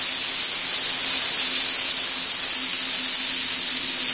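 Already-roasted cauliflower sizzles in a hot oiled pan, a steady, loud broadband hiss that runs unbroken with no talk over it.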